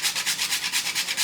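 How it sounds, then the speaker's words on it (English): Whole nutmeg rubbed against a grater over cornmeal pancake batter, giving a quick run of steady, rhythmic scraping strokes, close and fairly loud, with no talking. "I'm going to grate it a little bit in here."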